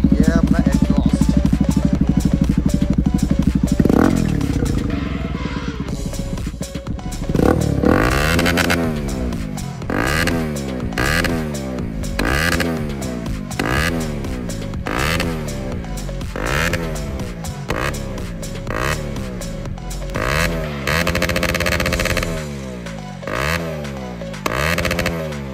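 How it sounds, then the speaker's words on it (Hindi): Bajaj NS200 motorcycle with an Akrapovic exhaust revving hard at night, a steady idle breaking into repeated rising and falling revs with sharp backfire pops, loud and close throughout. "चलो एग्जॉस्ट नोट सुनते हैं पहले। ये है अपना एग्जॉस्ट"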